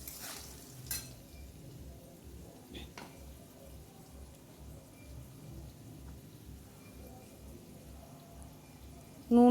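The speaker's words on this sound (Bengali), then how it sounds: "নুন হলুদ দিয়ে তারপরে আরেকটু নেড়ে তারপর মশলা দিয়ে দেবো" Potatoes frying in a pan with salt and turmeric, being stirred: a quiet, steady sizzle with soft scraping stir strokes and a few louder clinks, close by and low in level.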